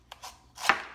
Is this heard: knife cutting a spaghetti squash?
yes